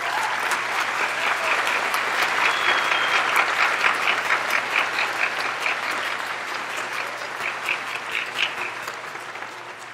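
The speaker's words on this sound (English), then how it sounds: "Please join me in a round of applause for the families of our graduates." A large audience at an outdoor college commencement under a tent applauds graduates' families, a dense sustained wash of clapping that holds steady for the whole stretch and eases slightly toward the end.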